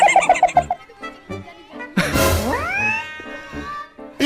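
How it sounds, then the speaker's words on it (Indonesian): A cat meows in a short string of yowls near the start, followed by one long, drawn-out meow that rises and falls, close and clear with no voices over it. "Jadi nggak pernah ngeliat kucing ini."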